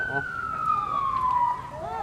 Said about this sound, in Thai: รถดับเพลิงกำลังมา